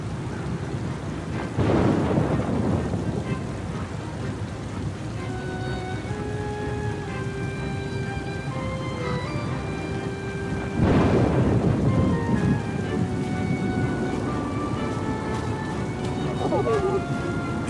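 Stormy night in the video game Oceanhorn 2, with steady rain and wind. Two heavy rolls of thunder break through, one early and one midway, and soft musical tones play over the weather.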